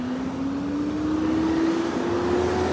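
A loud garbage truck rumbles steadily past outdoors with a droning engine tone that slowly climbs in pitch, sustained and close throughout.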